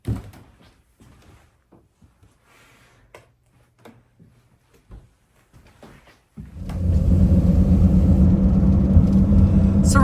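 A car sets off on old Route 66. Quiet handling thumps and clunks like doors give way to a loud, steady rumble of driving that carries through to the end.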